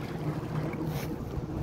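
Wind-driven waves lapping on Maatin Lake near Kalar Kahar on a sunny winter day, a continuous soft wash of water mixed with wind rumble on the microphone, steady and fairly close.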